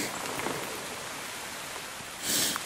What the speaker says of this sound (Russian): Идет дождь, блин.